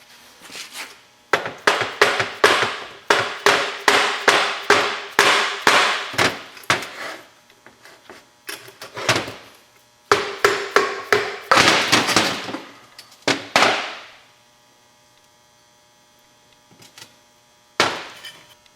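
Sharp metallic hammer blows on a Duramax LB7 diesel engine part during water pump replacement ring out in rapid, uneven bursts, then pause, then resume in shorter runs, close and loud.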